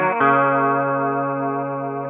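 Electric guitar played through chorus and distortion effects rings out a sustained chord in a song intro turnaround, bright and shimmering, alone and close.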